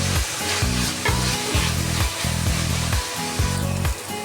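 Sliced onions with a little salt frying in a pan for mackerel masala, a steady close sizzle broken by rhythmic scraping strokes of a spatula stirring about every half second.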